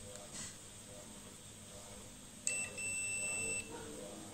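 A Sanwa CD800a digital multimeter in continuity mode gives one steady, high-pitched electronic beep lasting about a second, preceded by a brief blip, over a faint background hum.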